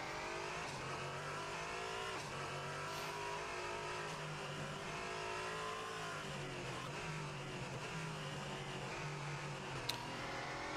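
An LMP3 prototype race car in a sim racing game at Sachsenring, engine roaring steadily at high revs with pitch shifts as it brakes and downshifts, loud and continuous throughout with no speech.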